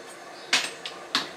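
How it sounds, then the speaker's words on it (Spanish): A lightweight kitchen knife chops food on a board, three sharp close knocks spaced unevenly over a quiet background. "Lo vamos picando así."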